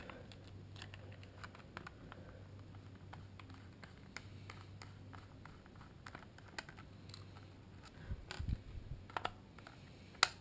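Small screws being unscrewed from an Xbox 360 controller: faint, close ticking and light clicks in a steady patter, with a few sharper taps and a rattle near the end.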